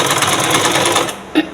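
A sewing machine stitches a blouse in a steady, close, rapid mechanical whir that runs continuously, then slows briefly near the end with a small knock.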